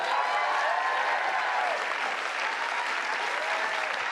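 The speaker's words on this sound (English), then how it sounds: "Big applause." Sustained audience applause at a political event celebrating an executive order, a loud, dense wall of clapping that carries evenly from start to finish with no voices above it.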